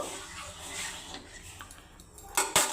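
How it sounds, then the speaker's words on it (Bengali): A spoon stirs a teaspoon of salt into a little water while chalta pickle is being made. The stirring is quiet, with two brief, bright metallic clinks near the end. "নুনটা আমি ভালো করে একটু জলের সাথে একটু মিশিয়ে ঘেটে নেব"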